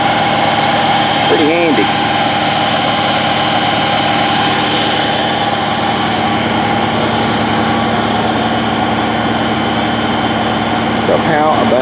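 Mini excavator clamped onto the back of a vehicle, its engine idling steadily with a low droning rumble throughout while someone talks briefly over it.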